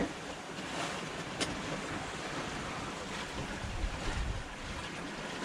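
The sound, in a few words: ocean waves and wind on a small sailboat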